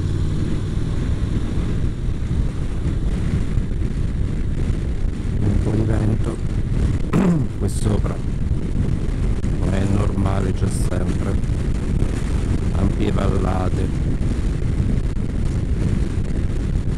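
Strong, constant wind roar buffeting the microphone of a motorcycle crossing the Forca Caruso mountain pass in Abruzzo, loud and unbroken throughout, with someone talking over it in the middle.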